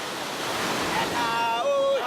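Broadband ocean surf rolls and crashes steadily on a beach in Ghana where fishing boats put out through the waves, a continuous wash with faint tonal whistles near the end and no speech.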